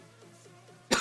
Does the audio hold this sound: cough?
yes